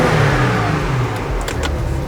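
A Porsche sports car engine in Sport Plus mode revs briefly and loudly, with a steady mid-range growl heard close by.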